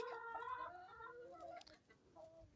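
Backyard hens cluck and call close by in a short, quiet burst of several clucks, alone without talk.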